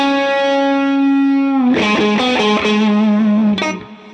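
Distorted electric guitar plays a lick: one long sustained bent note, then a quick run of hammered-on notes ending in a sharp accent, loud and close with effects.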